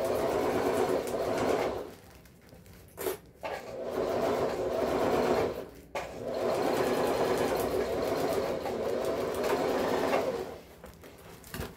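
Sewing machine stitching a waterproof thermal lunch bag, running in three steady bursts with brief pauses between, close and loud with no talking.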